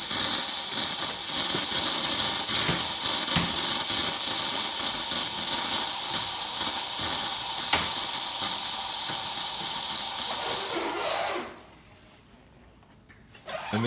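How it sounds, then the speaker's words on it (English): Rancilio espresso machine steam wand, just serviced, blasting a strong, steady broadband hiss for about eleven seconds before cutting off abruptly, leaving near silence until a faint noise at the very end. "We get nice strong steam."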